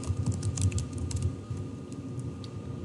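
Quick bursts of keystrokes on a computer keyboard, close and fairly soft, with brief pauses between runs and no talking.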